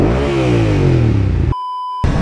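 A 2023 Triumph Street Triple RS 765 motorcycle engine with an aftermarket exhaust revs with a rising and falling exhaust roar, then cuts to a brief steady electronic beep.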